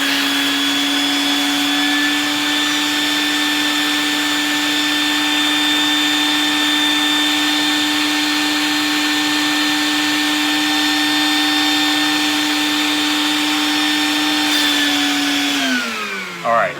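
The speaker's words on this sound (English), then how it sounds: "I'm gonna vacuum." Vinyl Vac record vacuum drawing air across a vinyl record, a loud steady motor whine with a fixed pitch that holds for about fifteen seconds before winding down at the end, with no talking over it.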